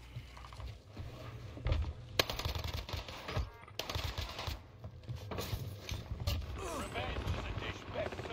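Rapid gunfire from a shooter video game, loud bursts of clicking shots layered over a dense game mix, with a voice talking intermittently underneath.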